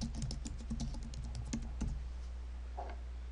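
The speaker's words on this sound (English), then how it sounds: "Now I have the ability to type some text directly into the assignment." Steady typing on a computer keyboard while entering text into an online course assignment, rapid clustered key clicks for a few seconds, close and clear, with faint background hum and no talking.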